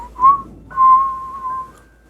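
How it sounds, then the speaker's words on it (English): A soft, clear whistle in the video game Compulsion Loop sounds twice, a short note followed by a longer held tone, in otherwise quiet surroundings. "Is somebody whistling?"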